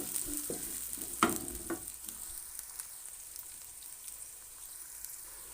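Three chopped onions fry in hot ghee for daal chawal. A few clattering stirs come early, then a soft, constant sizzle and hiss settles in. The sound is close but faint, with no voices.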